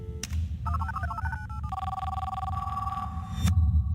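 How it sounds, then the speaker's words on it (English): A telephone ringing with electronic tone sequences and a sustained ring for several seconds, fairly clear over a low background rumble, no voices. "I hear the phone ring."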